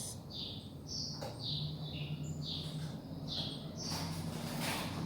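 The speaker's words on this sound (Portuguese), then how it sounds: "Não quero atrapalhar ali a sinfonia dos passarinhos." Songbirds chirp outdoors in repeated short bright calls from several directions, moderately near, over a steady low background hum, with no talking.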